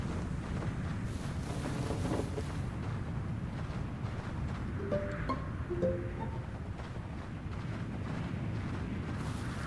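Wind gusting at a camp in a forest, a steady broadband rush buffeting the microphone throughout, with a few faint tonal sounds midway and no talk.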